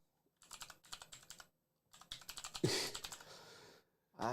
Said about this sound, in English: rather than me typing the URL back into the thing to get it going again here